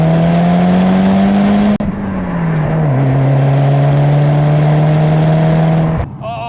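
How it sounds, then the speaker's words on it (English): A Toyota Celica GT-Four's engine revs hard with a steady, sustained tone that drops in pitch midway, then cuts off abruptly near the end, leaving a short burst of higher chatter from the wastegate. "noise and drama and the chittering of the wastegate"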